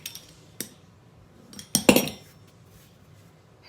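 Pans and cutlery clink during home cooking, a few sharp metallic knocks near the start and a louder cluster of clatters in the middle, close by in an otherwise quiet kitchen.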